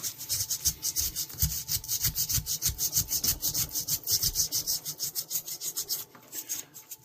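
Folded sandpaper scrubbed rapidly back and forth over a vintage fisherman knife during restoration, giving a steady, close, rasping rhythm of strokes that stops near the end, with no talking.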